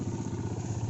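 A new motorcycle engine runs on a rough, broken jungle trail to Mount Bentuang in West Kalimantan, with a steady, close, chugging rumble throughout a brief moment.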